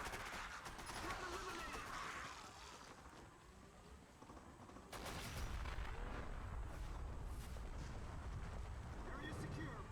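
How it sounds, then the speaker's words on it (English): Gunfire and explosions from the Xbox shooter Area 51 sound as a dense, continuous crackling barrage, growing louder and heavier after a brief lull midway. The noise stays fairly distant and faint, with a voice speaking over it. "Take aim and shoot the explosives."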